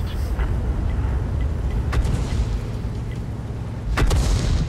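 Artillery shells in the World of Tanks video game land as a few heavy booms, around two and four seconds in, over a dense rumbling battle background.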